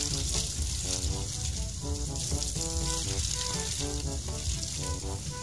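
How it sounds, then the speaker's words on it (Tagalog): Water from a PVC pipe gushes hard into a koi pond filter bucket, a steady close rushing and splashing with a bubbling, sizzling texture and no talk. "mahati siya kasi malakas kasi ang agos tingnan nyo so, sobrang lakas ng agos niya no"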